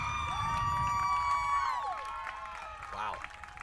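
Spectators at a women's college soccer match against Vassar cheer and shout after a goal, with whoops and high voices over scattered clapping that fade as a commentator talks over the crowd.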